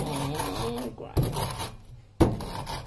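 Black pepper ground in a manual grinder for a Japanese-style cumin dressing, heard as a close, dry rasping crunch in short bursts with brief pauses between turns.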